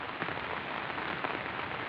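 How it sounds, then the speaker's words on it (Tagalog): Heavy rain pours steadily over a vegetable garden, a dense continuous hiss of drops hitting surfaces, close and loud with no voices. "So ayan malakas na naman yung ulan mga farming."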